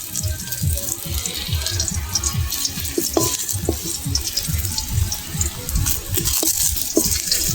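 Fried potatoes are scooped out of a pan of hot oil: continuous close sizzling with repeated scraping and clinking of a spatula in an uneven rhythm, no talking.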